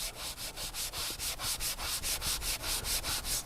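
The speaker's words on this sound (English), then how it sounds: "you could take the sanding block here and let's just mist a little bit of the cleaner onto the pad" A sanding block scrubs a leather steering wheel misted with cleaner in quick, even back-and-forth strokes, a close rhythmic rasp of about five rubs per second with no voices.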